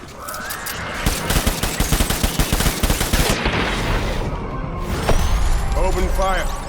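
Rapid gunfire bursts in Death Stranding, loud and close for a few seconds, then giving way to rumbling action sounds, with voices speaking over the scene.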